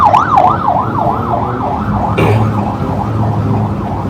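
A loud wailing siren sweeps up and down in a steady repeating cycle, close by, with engine rumble underneath.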